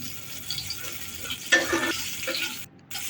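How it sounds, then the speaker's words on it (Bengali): Chopped tomato fries in a little white oil in a kadai, giving a soft sizzle with a few stirring strokes and spatula scrapes close by. "কড়াইয়ে অল্প কিছুটা সাদা তেল আবার দিয়ে তার মধ্যে আমি দিয়ে দিচ্ছি একটা টুকরো করে কেটে রাখা টমেটো"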